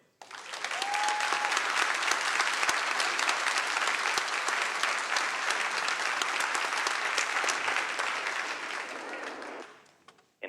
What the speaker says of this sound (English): A big applause to Nick,